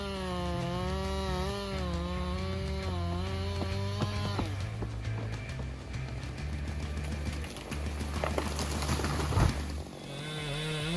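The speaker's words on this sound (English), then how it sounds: "592 XP chainsaw is a giant in the chainsaw world" A Husqvarna 592 XP chainsaw with a 90 cm bar cuts into big timber, its engine droning loud and close with pitch swings as it revs and bogs into the wood.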